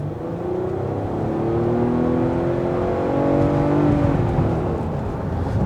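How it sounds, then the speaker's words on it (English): A 2020 Nissan Pathfinder Rock Creek Edition engine accelerates steadily under load, its revs rising smoothly and climbing toward the top of the range, heard close and continuous from inside the cabin with no talking. "I'm going to go ahead and go for some acceleration here"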